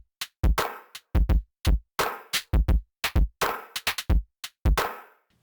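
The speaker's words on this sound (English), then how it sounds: "aliasing boom bap type drum kit." Crunchy, aliased boom bap drum kit from a Reason lo-fi pack: dry, punchy kicks and snares in a loose repeating groove, each hit short and gritty with sharp silences between.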